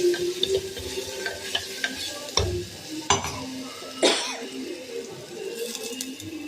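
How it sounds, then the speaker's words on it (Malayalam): A paste of ginger, green chilli, shallot and garlic frying in a pan, with a steady sizzle broken by scraping stirs and a few sharp utensil knocks against the pan. "ഇഞ്ചി, പച്ചമുളക്, കൊച്ചുള്ളി, വെളുത്തുള്ളി ഈ പേസ്റ്റാക്കിയത് ഇതിനെ ഒന്ന് മൂപ്പിച്ചെടുക്കും."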